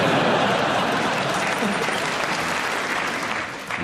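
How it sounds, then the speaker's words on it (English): A theatre audience at a live comedy panel show claps steadily for several seconds, dense applause that thins near the end, with brief speech mixed in. "Are you clapping because you hope that's the end?"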